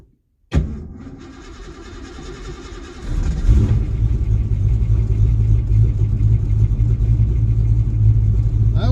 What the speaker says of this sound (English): let's see what happens when we try to cold start it